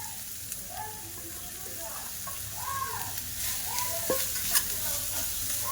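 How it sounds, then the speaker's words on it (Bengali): Shredded cabbage, beet and carrot stirred in a pan for an oil-free moong dal dish, with a steady soft sizzle and scraping of the spatula, plus faint voice-like tones and a few sharp clinks. "দিয়ে একটু নাড়াচাড়া করে নেব।"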